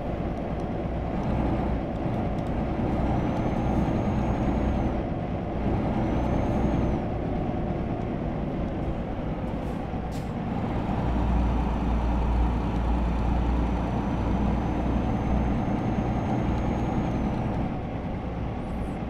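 Ashok Leyland heavy truck in Euro Truck Simulator 2 driving loaded in high gear: a steady, loud diesel engine drone with low rumble throughout, plus brief air-brake hisses and whistling tones.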